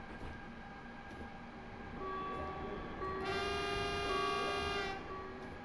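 Electric passenger train running at speed in Train Simulator on the stormy Munich to Garmisch-Partenkirchen route, a steady rolling rumble with a sustained electric whine and tonal drone that rises and brightens partway through, no talking.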